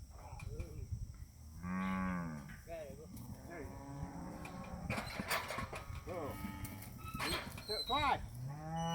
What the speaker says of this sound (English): That's a pretty cow right there with the white stripe down his back.